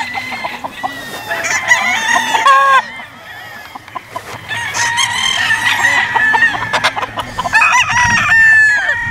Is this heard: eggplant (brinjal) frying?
no